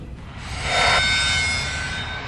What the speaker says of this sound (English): The KLM is completing its 180-degree turn and getting into position for takeoff.